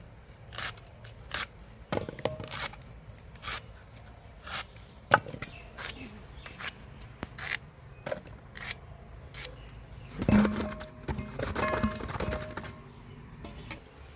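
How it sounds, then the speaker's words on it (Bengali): Knife chopping taro stems into small pieces on a board, sharp close cuts coming in irregular bursts with pauses, and a denser flurry of rapid chops near the end. "এবার এটাকে আমি ছোট ছোট করে টুকরো করে নেব যত টুকরো ছোট হবে রান্না করতে তত সুবিধা হবে"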